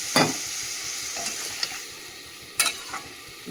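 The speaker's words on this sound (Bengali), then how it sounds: "চল আলু বেগুনটাকে এখানে নুন হলুদ দিয়ে ভালো করে ভেজে নিলাম" Potato and eggplant frying in a pan with salt and turmeric, a quiet steady sizzle broken by a few sharp scraping stirs of the spatula.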